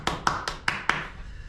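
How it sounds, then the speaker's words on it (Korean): One person claps five times in an even, quick rhythm, close and crisp, then the sound stops, with no talking. "제가 박수를 보내드리겠습니다."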